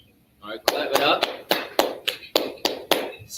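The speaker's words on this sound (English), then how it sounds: "All right, clap it up." A small crowd claps in a steady, rhythmic beat at a live talk-style gathering, about ten sharp, loud claps close by, following a short quiet start.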